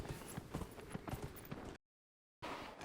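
Hooves of the Qunari appearance-pack horse in Dragon Age Inquisition clip-clop in a quick, even rhythm, close and clear, then drop to a brief silence before the galloping resumes.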